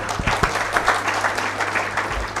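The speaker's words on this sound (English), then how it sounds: "I would like to give a big round of applause to all of them" Applause from an audience at a valedictory function for a mega health checkup event, a brief dense burst of clapping heard alone.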